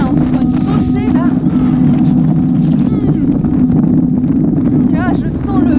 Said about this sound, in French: je sens la pluie et le vent là